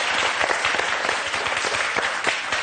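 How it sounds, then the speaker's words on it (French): A studio audience on a French game show breaks into loud, dense, continuous applause, a steady wall of clapping throughout. "Allez, on vous applaudit très très fort."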